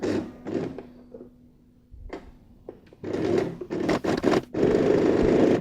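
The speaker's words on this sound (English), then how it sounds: "go and sew a 1/4 inch seam starting and finishing with a back stitch" A sewing machine stitches a quarter-inch seam with back stitches at the start and finish on a mitred tote bag handle, running in short bursts separated by quiet pauses, with heavier, longer runs toward the end.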